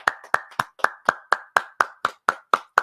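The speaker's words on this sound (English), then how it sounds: "I just want to give him a quick round of applause really quick" Slow, evenly spaced hand claps, about a dozen crisp sharp strikes at a steady rhythm with clear gaps between them, close and distinct, like one person giving a round of applause rather than a full audience.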